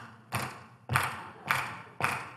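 A church congregation claps in unison in a communist-style rhythm, four heavy, evenly spaced collective claps, each a loud burst that decays before the next.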